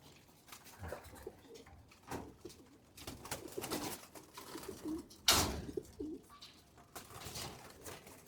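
Pigeons, a flock of yabay hens released for a flight session, coo softly at close range, with scattered bursts of wing flapping and a sharp rustle of movement.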